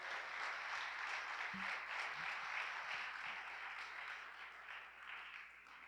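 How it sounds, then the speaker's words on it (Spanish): Congregation at a Spanish-language Christian church service applauding loudly for God, a steady broadband wash of many hands clapping together at a constant level through the whole stretch, fading slightly toward the end. "Y ayúdeme a dar un aplauso a Dios fuerte."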